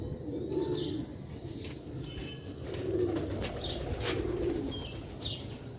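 Rooftop loft pigeons coo in soft, repeated low calls with occasional chirps and faint wing flutters over steady outdoor background noise.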